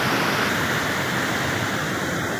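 Water pouring from the open gates of a dam, a loud, continuous broadband roar and rush with no breaks, heard close and alone.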